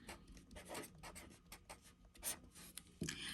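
A pen or pencil scratches across paper in short irregular strokes, faint and close, with no talking.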